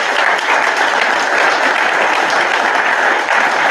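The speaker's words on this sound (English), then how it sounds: "So one more round of applause, please." A room full of people at a State Patrol awards ceremony applauding, dense steady clapping held at an even, loud level for the whole stretch, with no voice standing out.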